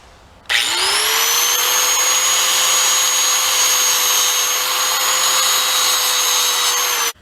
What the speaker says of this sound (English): I like to touch them up with a grinder a little bit